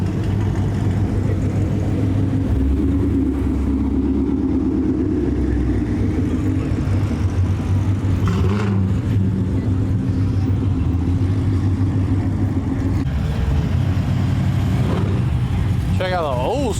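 Street racing cars rolling into a TX2K car meet, a steady mix of engine drone and occasional revving close by, with crowd noise and people talking over it.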